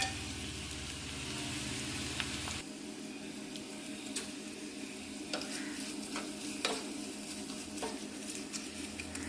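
Shallots, coconut and dried red chillies sizzle in hot coconut oil for a lentil curry, a steady crackling fry with stirring clatter and a low hum that cuts out early, then sharp spoon scrapes and ticks.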